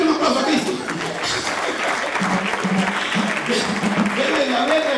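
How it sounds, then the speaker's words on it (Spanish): Guests at a wedding celebration applaud loudly and continuously for five seconds, with scattered voices and some chuckling mixed into the clapping. "¡Denle un aplauso a Cristo!"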